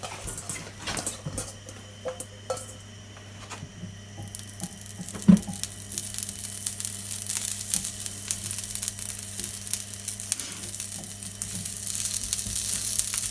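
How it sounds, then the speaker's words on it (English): Asparagus sizzles on a hot griddle, a steady close hiss and crackle with occasional pops and light scraping, and no talking over it. "we just throw this asparagus on the griddle"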